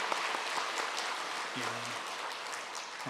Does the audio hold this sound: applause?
yes